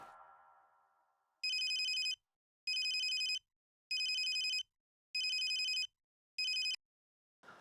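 A telephone rings in five evenly spaced electronic bursts, loud and clear against near silence, preceded by a fading tone and ending abruptly when picked up.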